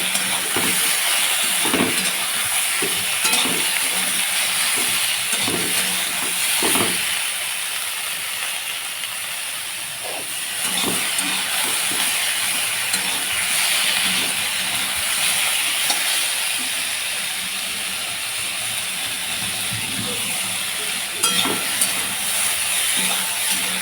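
Fish frying with ridge gourd and potato in a pan gives a constant, fairly loud hiss, dotted with scattered crackles and small pops throughout, with no talking.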